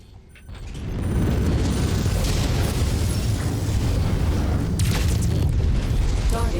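An enemy mech blowing apart in MechWarrior 5, a loud sustained roar of explosive rumble and crackling debris that swells after a quiet start and holds steady to the end.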